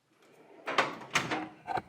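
Drawer of a new Husky tool box sliding open and shut, three close metallic rolling swishes with rattling contents, heard alone.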